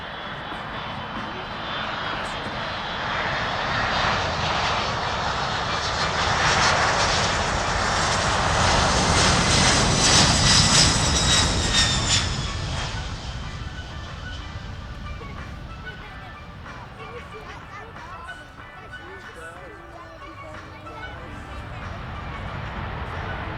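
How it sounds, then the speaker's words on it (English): A USAF Boeing C-17 Globemaster III jet on short final approach at the Spirit of St. Louis air show roars loudly, its engine rumble swelling to a peak and then easing off as it passes, under a public-address announcer. "on short final approach from your right, the C-17 Globemaster III"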